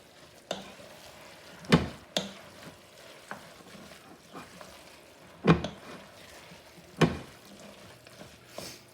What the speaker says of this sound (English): And now we're going to let that tomato paste brown up a little bit.